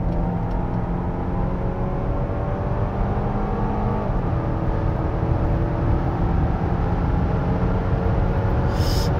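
A Genesis GV80 or Audi Q8 accelerating on a straight road during a test drive, a steady loud engine drone with rising whir and road rumble heard from inside the cabin.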